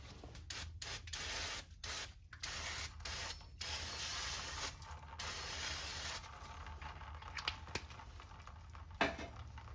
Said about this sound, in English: Let's get this hit with some brake clean and see what we